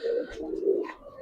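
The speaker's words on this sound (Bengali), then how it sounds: "কবুতর ডাকেই আসলে মনে হয় বেশি সুন্দর।" Giribaz and coloured pigeons coo nearby, with soft throaty rolling calls in a couple of close, overlapping phrases.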